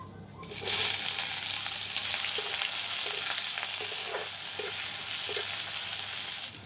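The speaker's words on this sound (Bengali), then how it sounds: "পেঁয়াজটা একটু ভেজেই নেবেন" Chopped onion frying with bay leaf and whole garam masala in mustard oil and ghee, a loud close sizzle that starts abruptly and holds steady, with occasional soft stirring taps in the pan.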